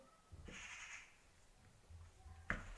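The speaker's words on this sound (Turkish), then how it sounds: "O karga sesi nedir öyle ya?" A crow caws faintly in the distance, a couple of harsh calls against a quiet background, with a sharp click near the end.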